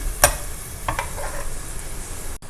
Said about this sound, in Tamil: இந்த காய் வந்து இந்த எண்ணெயில் போட்டு ஒரு 5 மினிட்ஸ் நல்லா வதங்கட்டும்.